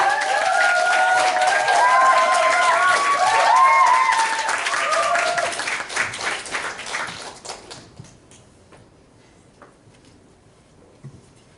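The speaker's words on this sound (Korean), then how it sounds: "큰 박수 부탁드립니다" An audience at a Korean business seminar applauds a speaker being welcomed to the stage, loud dense clapping with a few cheers that thins out into scattered claps and fades away.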